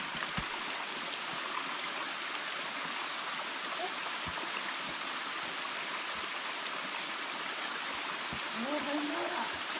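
A mountain stream rushing at the top of a waterfall in a shaded gorge on Mt. Kongo, a steady broadband roar of flowing water, close and continuous, with faint footsteps or knocks and a brief distant voice near the end.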